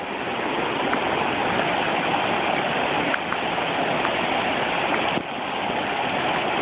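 Heavy pouring rain and a rushing, flooded stream during a flash flood make a steady, dense roar that stays loud and unbroken throughout, with no voices.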